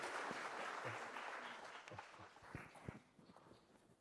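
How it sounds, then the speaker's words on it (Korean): Applause from a church congregation during a Korean Sunday worship service starts full and loud, then thins into scattered claps and fades over a few seconds. "큰 박수로 격려해 주시기 바랍니다"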